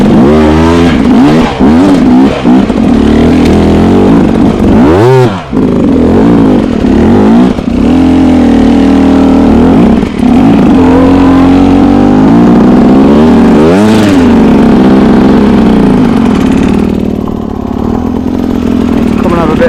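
A dirt motorcycle ridden in first gear, its engine revving loudly and continuously with rising and falling pitch through repeated throttle bursts, close and dominating throughout.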